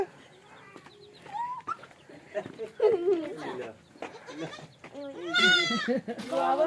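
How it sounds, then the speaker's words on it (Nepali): Small goats bleat repeatedly at close range on a family farm visit, their cries mixing with people talking nearby. "आँखेकै हो सानो सानो बाख्रा छुनु"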